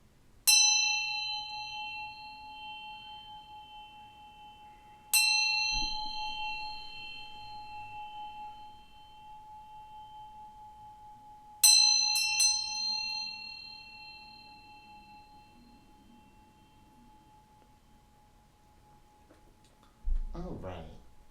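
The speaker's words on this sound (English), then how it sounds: "I'm going to ring this bell here and just bring in some good vibes" A small hand bell is struck four times at a slow, uneven pace, with the last two strikes close together. Each bright, ringing tone hangs and fades over several seconds in an otherwise quiet room.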